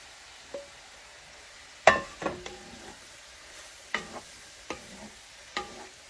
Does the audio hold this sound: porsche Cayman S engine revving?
no